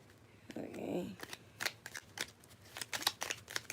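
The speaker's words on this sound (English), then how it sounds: "I'm going to shuffle 3 times" A deck of tarot cards is shuffled by hand, giving a short riffling burst followed by a series of crisp slaps and flicks at close range, with no talk over it.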